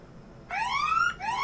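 A timer alarm suddenly starts, sounding as a loud rising electronic tone held for about a second, then it restarts with a second rising sweep.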